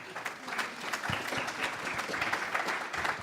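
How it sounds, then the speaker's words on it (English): Applause from an audience at the opening program of a book-burning memorial installation at a museum, a steady dense patter of many hands filling the room without a break. "Feel free to clap, yes."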